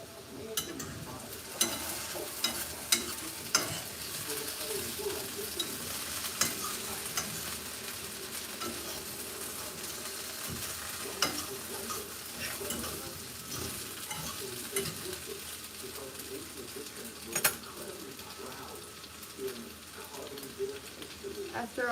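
Steak and potatoes fry in a pan with steady, close sizzling, while a utensil scrapes and stirs in scattered clicks across the whole stretch.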